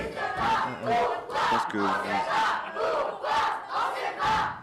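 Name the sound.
crowd shouting at world Tamenti championship semi-final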